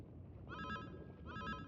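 A cell phone rings in the Dragon Quest Monsters: The Dark Prince video game, two short bright trilling bursts spaced under a second apart, soft and alone.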